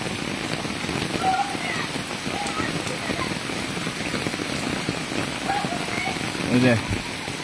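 Heavy rain pours down on a village in a steady, dense hiss that does not let up, with faint background voices.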